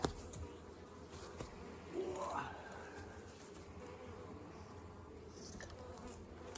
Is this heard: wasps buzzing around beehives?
yes